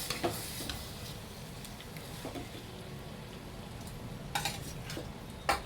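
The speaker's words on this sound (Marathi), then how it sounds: "नुसती परतून घ्यायची आता आपल्याला तेलात." Masala-coated fish pieces fry in oil in a pan with a soft, steady sizzle, faint and continuous, broken by a few brief clinks and stirring knocks.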